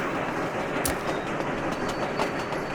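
Train running along the rails in the video game Sweet Transit, a steady rolling rumble with rhythmic clickety-clack and a few sharp clicks, continuous and fairly loud with no talking.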